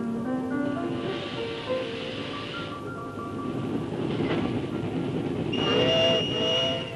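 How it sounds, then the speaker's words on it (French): Small steam train on the Tulle–Ussel line in Corrèze, a steady chugging rumble and hiss with a couple of whistle-like tones, heard from a moderate distance without speech. "Il joue au grand train, il veut se faire prendre au sérieux à force de fumée et de bruit."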